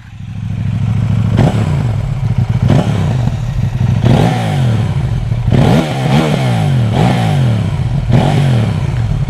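A KTM 790 Duke motorcycle engine with a stock exhaust is revved in a series of sharp, loud throttle blips, each rising and falling back toward idle with a clattery mechanical edge, heard close and alone.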